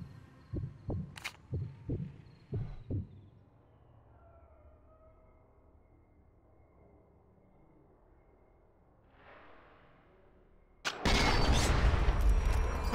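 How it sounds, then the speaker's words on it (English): In the video game Sniper Elite 4, a handful of muffled thumps come first, then a long quiet stretch, and then a sudden loud, broad explosion blast bursts in and roars on to the end. "That was an explosion."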